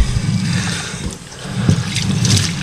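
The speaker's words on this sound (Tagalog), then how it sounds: "Ang water dito ay pwedeng gamitin sa pagluluto. At sabi ng caretaker, yan, lakas ng tubig." Water flows strongly from a tank at a lake house campsite in Lumban, Laguna, making a close, steady rushing splash with small surges.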